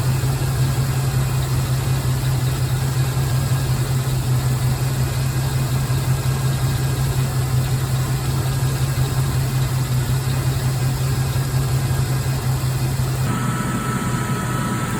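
Car engine idling steadily with the heater blower fan on high and the air conditioner compressor cycling, a constant close hum and whir that shifts in tone near the end, after a home-rebuilt alternator was installed.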